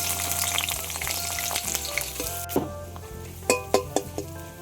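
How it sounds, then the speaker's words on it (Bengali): Sliced onions drop into hot oil in a kadai and sizzle loudly and steadily, with a few sharp metallic clinks of a spatula against the pan near the end. "তেলটা গরম হয়ে গিয়েছে। এবার পেঁয়াজ দিয়ে দেবো।"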